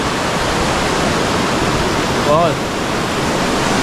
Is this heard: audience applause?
no